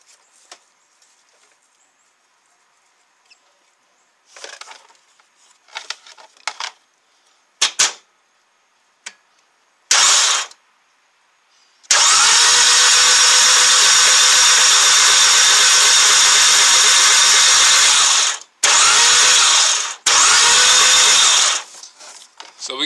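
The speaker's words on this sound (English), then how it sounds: "I'm going to jump the starter." A starter jumped directly cranks the 2.0T engine of a VW CC Sport, a loud, steady mechanical whir lasting several seconds with a brief break, after scattered clicks and handling noises.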